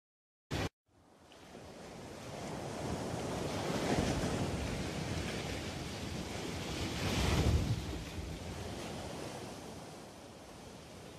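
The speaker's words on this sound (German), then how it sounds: "Die Meere und Ozeane." Ocean waves and surf roll and break in a steady wash of noise, swelling twice to louder crashes, with wind buffeting the microphone; a short click comes just before the surf begins, and there is no speech.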